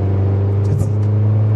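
A 2.5-litre engine-swapped Mazda NC MX-5 pulls hard under acceleration, a strong steady engine drone with a slight surge midway, loud and close.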